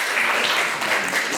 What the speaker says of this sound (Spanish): Un fuerte aplauso, por favor, para